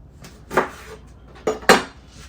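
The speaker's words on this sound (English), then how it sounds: "we're just gonna slice our lime. Slice it in fours." A knife cuts through a fresh lime into quarters on a board, giving three distinct chopping taps, two close together near the end, in a quiet kitchen.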